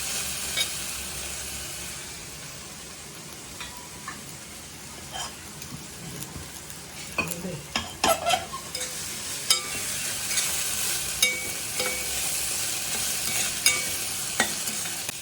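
Onions sautéing in a pan for bitter gourd curry give a continuous close sizzle, with stirring scrapes and clicks that grow busier midway.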